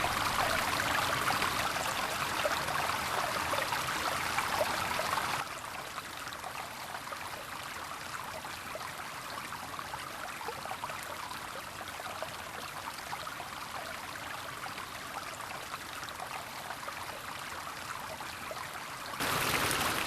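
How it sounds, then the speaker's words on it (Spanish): A small stream, a tributary of the Mijares river, flows steadily through inland Mediterranean scrub in Castellón, giving a continuous broadband rush that is somewhat louder at the start and end, with no voices. "El riachuelo Carbo se junta con el afluente Villahermosa cerca de la población castellonense que ha dado nombre a este curso fluvial"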